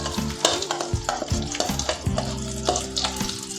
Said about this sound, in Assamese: আৰু চয়াবিনখিনি দি ভালকৈ একদম ধুনীয়াকৈ এনেকৈ লৰাই থাকিব লাগিব।